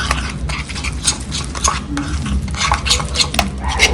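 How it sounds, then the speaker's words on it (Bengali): Kebab mixture is worked by hand with gram flour in a bowl, giving close, continuous squelching and clicking of utensils against the dish in a busy rhythm, with no talk over it. "একটু বেসন দিয়ে এটা আমি খুব ভালো করে মিশিয়ে নেব।"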